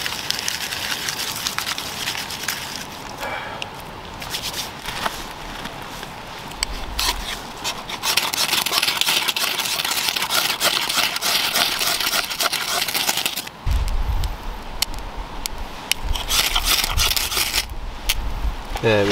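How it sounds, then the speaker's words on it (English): Dry birch bark strips rubbed together between the hands outdoors at a Scottish woodland camp, giving a continuous crackling, scratchy rustle close by that rises and falls in bursts. "get them in your hand and just rub them all together"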